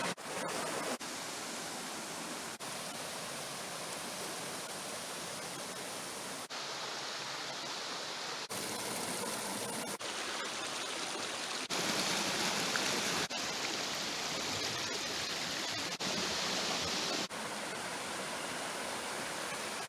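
River water rushing steadily over rocks toward a pair of waterfalls in a Galician valley, a dense broadband roar that stays loud and constant throughout, close by, with no voices.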